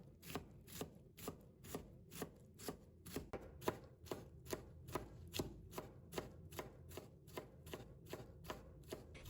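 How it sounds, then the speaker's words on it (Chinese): A knife chops food into small dice on a board in a quick, even rhythm of sharp, close taps, about two per second, quiet and with no talking. "然后切成丝。 最后切成小碎丁。"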